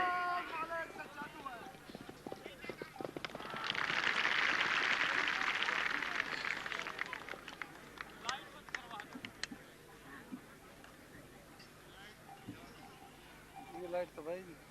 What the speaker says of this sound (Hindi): अब जमुना घोड़ी पर आ रहे हैं एएसआई रणवीर सिंह।